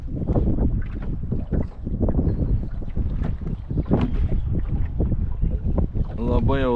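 Wind picks up on a lake during fishing, buffeting the microphone with a loud, continuous low rumble and gusty roar throughout, and a voice briefly rises over it near the end.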